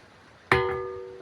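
A single strike on a ringing rock on Kanchanagiri hill rings out with a clear bell-like tone that sustains and slowly fades over quiet background.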